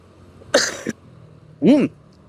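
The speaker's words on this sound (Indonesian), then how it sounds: "Jadi mungkin gara-gara tenggorokan kering batuk gitu ya, tapi batuknya dahak" Two harsh, wet, phlegmy coughs close to the mic, separated by a brief pause, the second rougher and more throaty.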